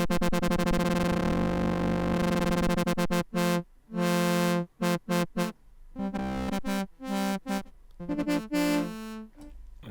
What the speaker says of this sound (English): It adds this kind of delay effect